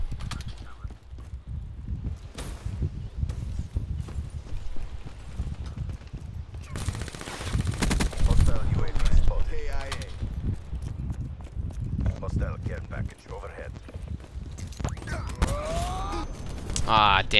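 Burst-fire weapon shots in Black Ops 3, rapid short volleys of gunfire scattered through busy game noise with mechanical footsteps, while someone talks throughout.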